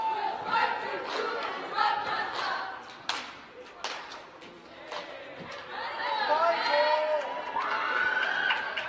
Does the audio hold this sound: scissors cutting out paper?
no